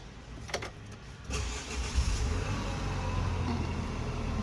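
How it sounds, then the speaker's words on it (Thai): A 2018 Nissan Terra 2.3 diesel SUV engine turns over by push-button start and catches, settling into a steady low idle hum that continues close by. "เหยียบเบรกค่ะ แล้วก็กดปุ่มสตาร์ทได้เลย"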